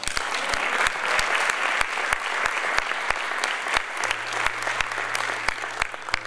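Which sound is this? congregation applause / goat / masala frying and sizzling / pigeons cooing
congregation applause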